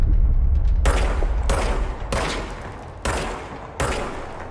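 Gunfire in the action game Control: five loud, evenly spaced shots, each with a long booming tail, over a dull low rumble.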